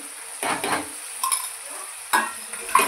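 Ginger-garlic paste being stirred into sizzling dum aloo masala in a pan, with a steady sizzle under a few distinct scraping strokes of a spoon against the pan, close and without talk.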